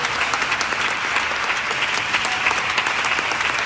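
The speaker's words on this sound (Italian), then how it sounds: "insieme a Cosimo Morfeo, a cui tributiamo un doveroso applauso" Steady applause from a gathered audience at a school sports complex inauguration, dense continuous clapping that holds evenly for a few seconds with no voices over it.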